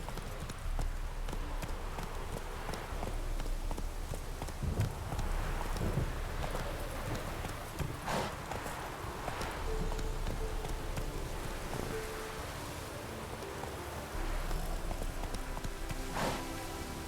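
Horse hooves drumming in steady galloping rhythm on a dirt road in The Witcher 3, a continuous close clip-clop carrying through the whole stretch over a faint rain-like wash.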